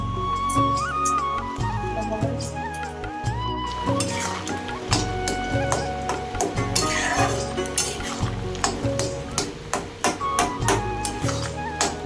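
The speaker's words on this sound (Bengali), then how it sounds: "চাল ভাজা ভাত মানে এই যে চালটাকে নেড়ে চেড়ে নিচ্ছি" Rice is stirred and dry-roasted in a pot, with a steady clatter of utensil scraping and clinking against the metal under continuous music, no talking.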